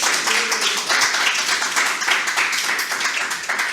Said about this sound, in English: Please give Steph a round of applause